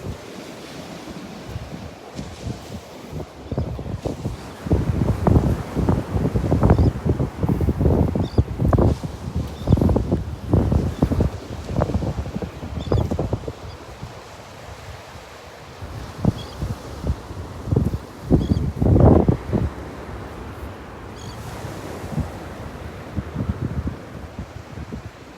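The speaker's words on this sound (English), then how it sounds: "Wind is really starting to pick up." Strong wind gusting across Vanderbilt Beach, roaring in bursts over rolling surf that swells and fades, loud and close, with no voices.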